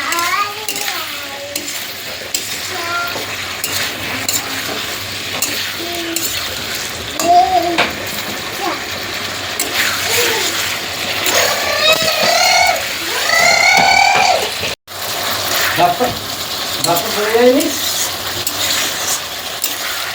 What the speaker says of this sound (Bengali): দেখতে পাচ্ছ বন্ধুরা মশলা কিন্তু কষা হচ্ছে